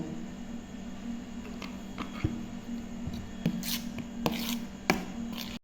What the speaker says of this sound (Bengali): মশলাতে সরষের তেল মাখানো হয়ে গেছে